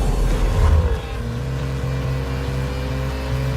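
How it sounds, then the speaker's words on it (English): A 2019 Jaguar F-Pace SVR engine with variable valve active exhaust revs loudly close by, a strong rise and peak early, then settling into a steady droning note that holds to the end. "With the variable valve-active exhaust system enhancing performance capability and delivering SVR's signature soundtrack."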